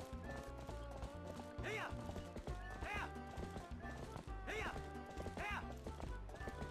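Goats in Zelda: Twilight Princess HD bleat in a repeated, wavering call, four times over about seven seconds, while they are herded into a stable. Steady game music and light hoof-like clatter play underneath.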